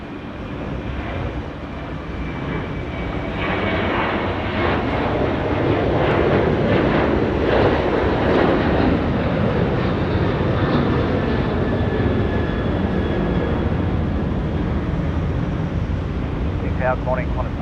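An airliner landing on runway 34 left at Sydney Airport and rolling out, a sustained loud engine roar that builds and stays strong, with faint radio chatter over it near the end.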